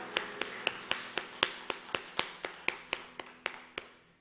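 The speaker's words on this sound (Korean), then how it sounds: "우리 하나님께 영광의 박수로 찬송을 할렐루야." A church congregation at a Sunday worship service claps together in praise, about sixteen crisp, evenly spaced claps in a steady unison rhythm, fairly close and with no talking.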